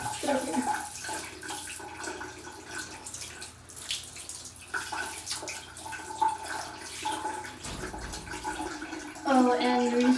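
Shower water runs steadily while a cat is washed, a continuous close hiss and splash with a louder burst near the end, as a person talks over it throughout.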